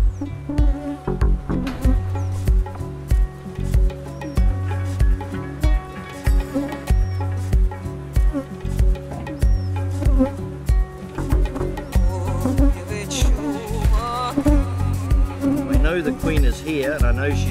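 Honey bees buzzing over the frames of a tropical hive during a queen search, a dense, continuous close drone with shifting pitch, no pauses, and a faint voice now and then underneath.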